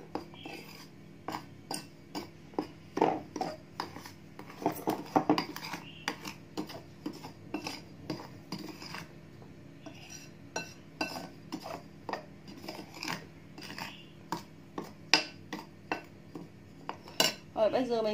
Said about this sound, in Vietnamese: Chúng ta trộn đều cái hỗn hợp này lên.